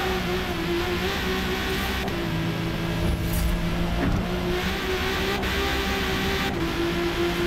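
A widebody Supra S-class race car with a six-cylinder engine of over 1100 horsepower howls in a racing video game, holding a steady, loud, high-revving drone with brief shifts in pitch.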